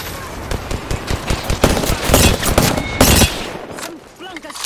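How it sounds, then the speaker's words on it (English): Gunfire in the Apex Legends battle royale, in a ranked match: dense rapid bursts of automatic shots crackle close and loud for several seconds, then thin out, with voices talking alongside. "Some flunkers shooting at me"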